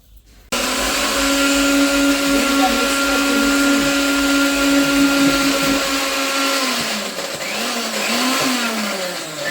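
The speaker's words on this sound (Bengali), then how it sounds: "চিনিকে মিহি একদম পাউডারের মতো করার জন্য এই যে আমাদের মিক্সার মেশিন আছে" A mixer grinder whirs loudly and steadily as it grinds sugar into a fine powder, starting abruptly after a brief quiet moment and shifting pitch slightly near the end.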